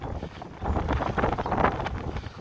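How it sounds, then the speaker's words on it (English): Strong wind gusting across a hilltop by a village church, buffeting the microphone with a rough, surging roar that swells and dips throughout, no talking. "It's very windy here"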